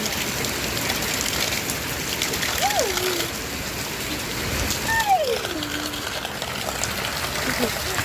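Steady rain pours down in a continuous broadband hiss, with a couple of brief voices calling out over it.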